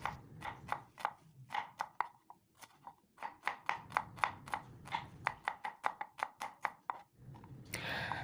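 A knife slicing shallots thinly on a cutting board, with quick, even, crisp taps in close bursts and brief pauses between runs.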